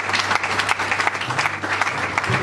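Mourners at a funeral tribute for a pastor in Kinshasa clap together in a fairly loud, continuous burst, with a low hum of music or singing beneath the applause.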